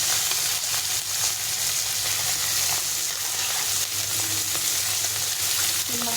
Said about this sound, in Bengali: সেইভাবে মাছটা প্রথমে ভেজে নেব।